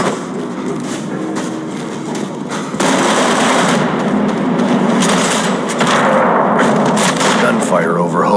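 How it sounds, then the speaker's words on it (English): Sustained automatic gunfire over Hoboken in the video game Max Payne 3, loud rapid bursts that thicken into a dense barrage partway through, with a voice heard faintly beneath the shooting. "Gunfire over Hoboken."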